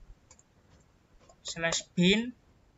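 Keys clatter faintly on a computer keyboard as a command is typed into a terminal, with light scattered clicks and then a voice speaking over them.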